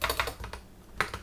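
Someone types on a computer keyboard, a few quick close keystrokes in short irregular bursts with a brief pause between them, and no voices.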